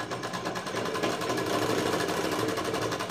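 A sewing machine stitches a double-folded fabric strip for a blouse, running as a continuous, steady, fast mechanical chatter close by, with no talk over it.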